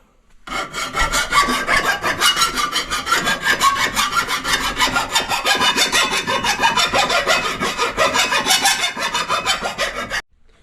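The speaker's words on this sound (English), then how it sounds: "he's just filing off all the little slivers" Close, loud rasping strokes of a file on rock light mounting brackets for a 1989 Jeep YJ, running in a fast, even rhythm for about ten seconds and then stopping abruptly, with no talking.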